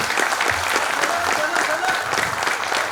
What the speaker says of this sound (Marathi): एकदा जोरात टाळ्या त्याच्यासाठी पण होऊन देत